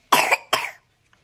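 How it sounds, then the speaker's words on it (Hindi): Two quick, close coughs in a row from a person at home, loud and sharp against otherwise quiet surroundings. "और खांसी भी आ गई"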